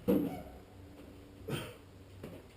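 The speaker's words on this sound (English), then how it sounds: "My dog's up there barking because he wants in." A dog barks from upstairs, wanting to be let in: a few sharp, fairly distant barks, one at the start and more about a second and a half later, with quiet room noise between.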